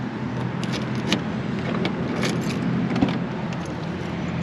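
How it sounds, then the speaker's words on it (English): Factory keys for a 1987 Ford Thunderbird Turbo Coupe with a turbocharged 2.3-liter engine jangle close by in a steady metallic rattle, with small peaks of clinking over a constant low hum. "Still have the factory turbo keys."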